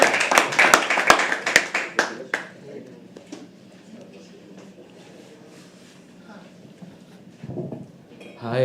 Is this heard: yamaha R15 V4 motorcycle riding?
no